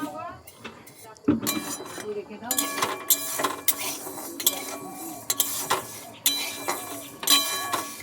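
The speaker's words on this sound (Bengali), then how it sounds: "খানিকক্ষণ একটু নেড়ে ছেড়ে নেবো।" A spoon scrapes and clinks against a kadai while mung dal is stirred and lightly roasted, giving irregular metallic knocks and scrapes up close with someone talking in between.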